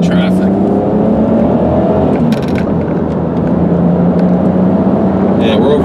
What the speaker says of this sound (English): I'm going to really step on the gas here